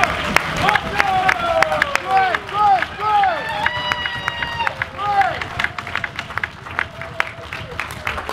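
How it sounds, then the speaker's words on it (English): Lecture audience claps and stamps their feet, a busy, continuous rumble of hands and feet with a crowd murmur underneath, while whooping, siren-like vocal sounds rise and fall over it. "Clap your hand. Clap your foot."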